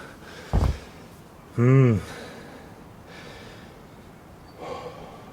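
Heavy, labored breathing during a dumbbell legs and core home workout comes as a few sharp gasps and snorting exhales spaced over several seconds, close and fairly loud against a steady background hiss.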